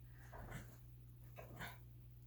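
A puppy whimpers and shuffles around on a bed, with two soft whiny bursts rising over a steady low background hum. The sounds are faint and a little distant, with no talking.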